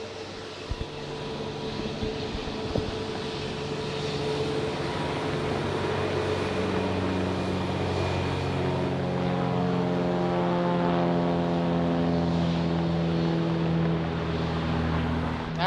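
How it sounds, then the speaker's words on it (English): A Cessna 182 light propeller aircraft drones at Dallas Love Field, its steady engine tone rising and shifting in pitch as it passes, heard from a distance with a constant rumble underneath. "Here's the king of the skies, the Cessna 182."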